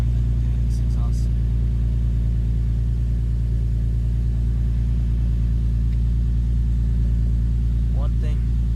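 Infiniti G37 sedan fitted with a Stillen catback exhaust idling close by, a steady loud low-pitched rumble throughout with a few faint brief noises over it.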